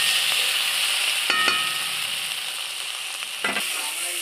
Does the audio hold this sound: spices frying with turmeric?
yes